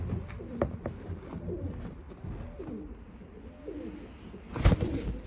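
Ballerina pigeons coo softly and repeatedly close by, low throaty calls overlapping, with a sharp knock near the end.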